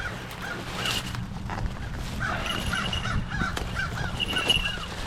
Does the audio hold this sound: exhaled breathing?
no